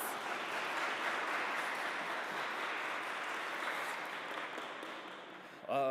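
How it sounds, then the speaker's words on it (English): An audience at a university partnership celebration claps hands in a steady, fairly soft wash of applause that continues evenly, cut off at the end as a voice begins. "clap hands"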